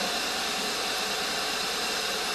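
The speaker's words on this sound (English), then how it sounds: "All right, vehicle is running." A 2015 Hyundai Sonata engine idling with a cylinder 2 misfire, a steady close drone with a rough low pulsing throb and broadband hiss, no talk.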